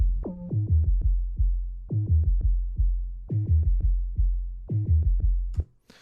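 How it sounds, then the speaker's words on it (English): A deep, gliding synth bass plays a repeating pattern of plucked notes, with a soft hissy, paper-like noise layer adding high end on top, ending in a brief noisy burst. "I want to add a little bit of noise to it to bring some high end back"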